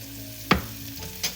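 Picadillo ingredients sauteing in a pan, a soft steady sizzle with a low hum beneath, broken by one sharp utensil knock and a quieter clink a moment later.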